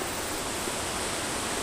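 A waterfall roars as a constant broadband rush of falling water, loud and unbroken without any pause.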